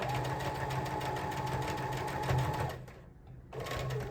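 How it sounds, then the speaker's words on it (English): A sewing machine stitches a tote bag lining, running as a close, steady buzzing whir that briefly pauses near the end before starting up again. "And you're going to stop your sewing when you get to the top."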